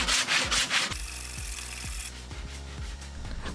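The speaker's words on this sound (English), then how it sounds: "I had to use a wood saw to try and chop it off." A hand wood saw cuts through a thick oak slab with rhythmic rasping strokes, close and steady, a dense burst at the start giving way to evenly spaced pushes.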